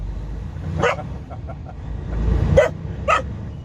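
A dog barks about three times in short, sharp bursts at moderate distance, with a low rumble of background noise between the barks.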